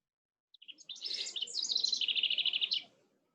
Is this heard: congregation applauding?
no